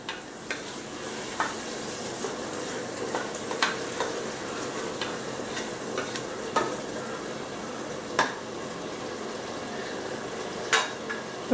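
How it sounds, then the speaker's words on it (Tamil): Mutton and yogurt sauté in oil in a pan for biryani, giving a continuous close sizzle broken by sharp spatula scrapes and clicks every second or two. "இப்போ கொஞ்சம் அது நல்லா வதங்கட்டும்."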